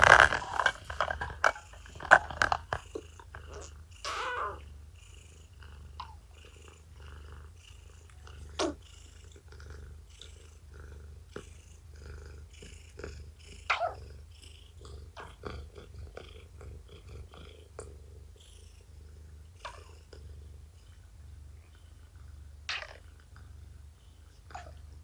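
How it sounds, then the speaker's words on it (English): Faint, intermittent low gurgles and rumbles from a pregnant cat's belly in early labour, scattered irregularly over quiet background, recorded close with occasional soft clicks. "Her belly is being very noisy right now."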